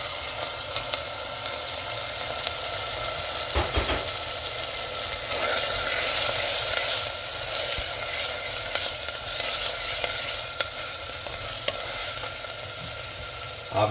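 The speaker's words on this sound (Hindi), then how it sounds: "और साथ ही मैं अब टमाटर ऐड कर दूंगा। ये 2 टमाटर हैं, 2 टमाटर मैं इसमें ऐड करूँगा।" Two tomatoes drop into a pan of mixed lentil daal, which sizzles and fries steadily at a close, moderate level with occasional stirring knocks.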